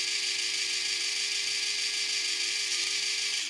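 Modified Vessel three-speed electric ball-grip screwdriver running steadily under downforce with a 13 mm Japanese bit, a close, continuous high-pitched motor whine and gear buzz that holds even for over three seconds, then cuts off abruptly.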